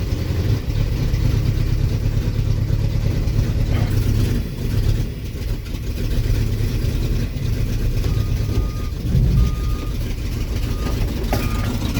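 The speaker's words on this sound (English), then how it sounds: "It's also got a beeper on it." A 1988 Chevy V30 one-ton 4x4 dually truck engine running at raised revs while overfueling, a steady loud close drone throughout, with faint intermittent reversing beeps over it.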